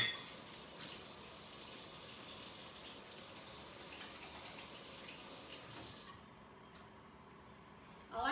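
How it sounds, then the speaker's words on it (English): Tap water runs steadily as hands are washed at a kitchen sink, a continuous loud splashing rush for about six seconds before it shuts off and fades to quieter room noise. "I'm gonna wash my hands really quick"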